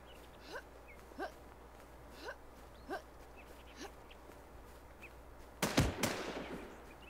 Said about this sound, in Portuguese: Até me acertou um tiro já.